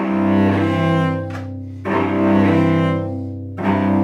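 Cello notes bowed with a too-loose, floppy arm sound in long, sustained strokes with slightly uneven, loose attacks, three bow strokes separated by brief breaks.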